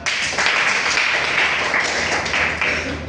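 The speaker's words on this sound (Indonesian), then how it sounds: "Kita tepuk tangan juga." A vocational high school class in Karanganyar claps together in a loud, dense burst of applause that continues steadily for a few seconds, with no speech over it.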